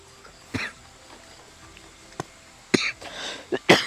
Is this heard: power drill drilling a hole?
no